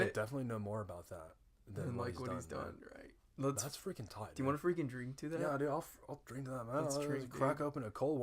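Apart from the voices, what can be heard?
No distinct noise like a dog, phone or traffic.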